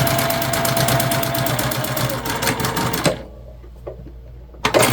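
A sewing machine stitches a fabric pencil pouch in a fast, steady mechanical chatter for about three seconds, then stops, leaving a quiet pause before a brief burst of whirring at the end.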